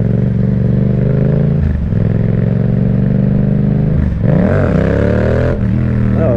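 A tuned 2019 Yamaha MT-07 motorcycle engine roars close and loud throughout, revving up and down with rising and falling pitch sweeps and a rough, throaty edge.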